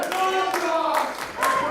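A wrestling crowd at an IZW Adrenaline show claps and chants in rhythmic bursts for Bobby Starr, several loud vocal swells with clapping underneath.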